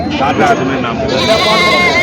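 Bleating from a goat at a village goat market rises over ongoing talk, loud and close, with a few wavering calls mixed into the chatter.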